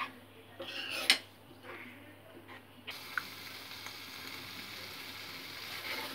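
Tomatoes fry in a pan for a malai tamatar sabji: a few clinks of a utensil against metal come first, then a steady, soft sizzle continues close by.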